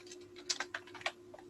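Computer keyboard typed on while writing code: a quick, close, quiet burst of uneven clicking keystrokes.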